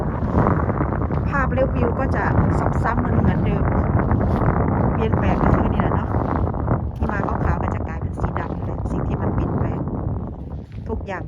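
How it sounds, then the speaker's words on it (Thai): Cold wind blows steadily outdoors as snow begins to melt, a loud, unbroken blustery roar buffeting the microphone, with gusts rising and falling for about eleven seconds. "เสียงลมเสียงหนาวมาฝาก บรรยากาศแถวๆนี้แหละ"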